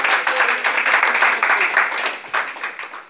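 Church congregation applauding during a Sunday service, a dense, even wash of many hands clapping for about three seconds before thinning slightly at the end.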